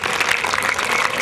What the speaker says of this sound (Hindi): हंसने के बजाय भैया तालियां बजाकर